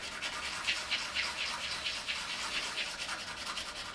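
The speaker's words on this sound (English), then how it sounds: "You can use a bit of sandpaper to smooth it down." Sandpaper rubs back and forth over the sharp cut end of a wire on a small automaton, a quick rhythmic scratching of about a dozen close strokes, with no talking.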